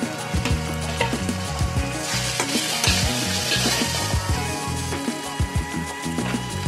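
Spice masala for a soyabean kofta curry fries in oil in a pan while being stirred, with loud, busy crackling sizzle and repeated scraping strokes of a spoon close up, no voices.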